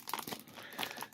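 A heavily taped package is unwrapped at close range, with a short burst of crinkling and crunching tape and wrapping.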